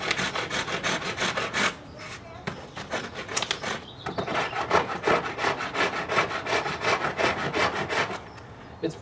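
Rapid rasping strokes of a file or surform shaping still-soft Bondo body filler on a motorcycle seat pan mold for a GS550 cafe racer, close, rhythmic and scratchy with brief pauses between runs of strokes.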